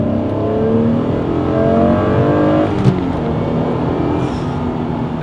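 An Acura NSX sports car revs while driving, its engine note climbing in pitch, then easing off and rising again as it accelerates, heard loud and steady from close inside the car.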